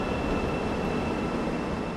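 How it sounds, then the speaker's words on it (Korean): A Seoul subway train pulls into the station, a loud continuous rumble and roar of wheels and motors filling the platform, steady throughout with no voices. "새로운 지하철이 들어옵니다."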